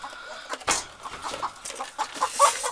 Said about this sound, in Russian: Петух курицу топчет.